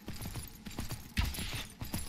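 Galloping horse hooves from the video game Myth of Empires, a steady run of muffled clip-clop beats with one heavier thump midway, moderately quiet and without voices.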